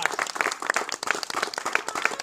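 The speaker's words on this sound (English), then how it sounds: "So, have a round of applause first." A crowd gathered for a jersey retirement ceremony gives a round of applause, dense clapping filling the whole stretch with a few louder claps and a brief cheer standing out, fairly close.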